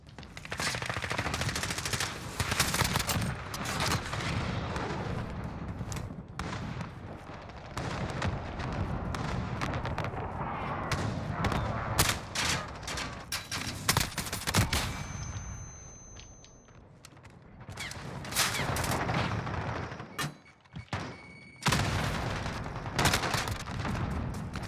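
Rapid bursts of Uzi submachine gun fire in the shooter game Modern Warfare, loud and close, with short pauses between strings of shots and a few metallic clinks.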